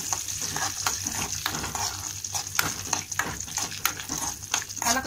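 Ingredients for bottle gourd payasam frying and sizzling in a pan while being stirred, with a steady hiss broken by frequent scraping strokes, close up.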